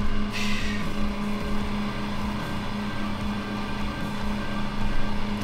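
A Baileigh industrial tube notcher runs with a steady motor drone and whine, a constant mechanical hum holding level throughout, loud and close with no talking.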